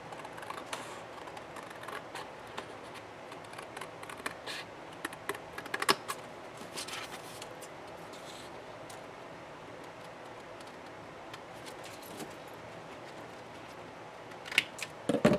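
Scissors cut cardstock for a B6 double envelope notebook insert, producing faint, irregular snips and crisp paper clicks that come and go over a quiet background, with a few sharper cuts near the end.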